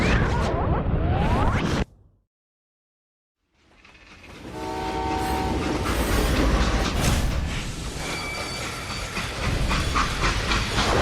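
A steam train in the video game Call of Juarez: Gunslinger rumbles and hisses loudly, cuts out briefly to silence, then returns with chugging, squealing rails and a horn-like tone.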